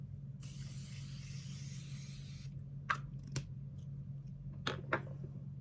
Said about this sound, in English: I'm going to use the Morphe Continuous Mist.